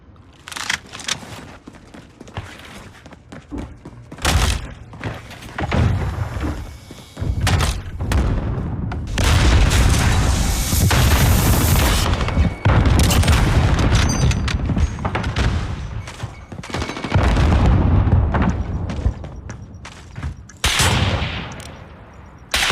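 Dense, continuous gunfire and explosions from a competitive Call of Duty match, with rapid bursts, booming blasts and thuds layered loudly and almost without pause.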